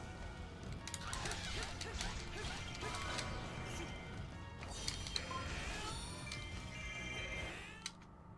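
A King Dog barks in the Hyrule Warriors video game, with yips and growls set among busy game battle noise, crashing hits and effects, continuous over several seconds.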